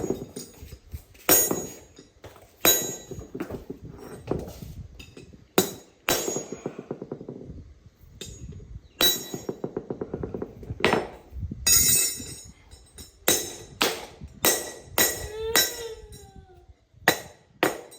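A series of sharp hammer blows during horse hoof trimming, irregular and fairly close, striking with a bright metallic ring, with short pauses and some quiet background noise between hits.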